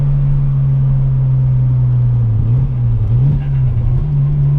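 Sports car engine, either a Mazda RX-7 rotary or a Porsche 993 flat-six, holding a steady loud drone with small throttle blips near the end as it revs through a downshift. No talking over it.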